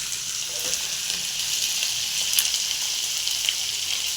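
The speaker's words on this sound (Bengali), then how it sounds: "চিকেনটা আমি একটু হাই ফ্লেমেই ভাজছি, জলটা বেরোচ্ছে" Chicken pieces fry over a high flame in a pan, giving off their juices, with a steady, dense hiss of sizzling that holds evenly throughout and has no talking over it.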